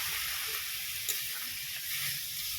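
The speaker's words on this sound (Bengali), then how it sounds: "কড়াইতে লেগে আছে তার কারণে কি করছি আবারও কিছুটা জল দিয়ে দিচ্ছি" Water added to a hot kadai of jackfruit curry makes a steady, soft sizzle and hiss that runs evenly from start to finish with only a slight crackle.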